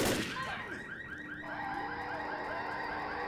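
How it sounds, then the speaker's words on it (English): Car alarm blaring from a scripted car in the zombie video game Left 4 Dead, a steady electronic siren with warbling, sweeping tones that carries on loudly after a sharp burst at the start. "If you shoot specific scripted cars, the alarm goes off and it attracts a horde that will most likely kill you and your friends."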